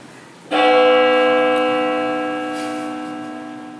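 A single deep bell strikes once during a high school stage performance of Macbeth and rings on with a long, slowly fading hum of overtones.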